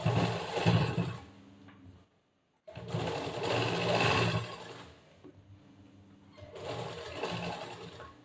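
A sewing machine stitches the side seam of a cross-cut blouse in three loud, close bursts of rapid whirring, separated by a short silent pause and a quieter stretch.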